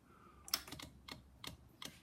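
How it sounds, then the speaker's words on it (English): Fuel pump on a Bimota YB8e motorcycle ticking at first start-up, a series of sharp, quiet clicks at uneven intervals close by, with nothing else heard. "You just hear the clicking of the fuel pump there."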